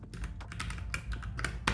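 Rapid keystrokes on a computer keyboard while coding a to-do list app in HTML, CSS and JavaScript, a dense close clatter of clicks and taps with no voices.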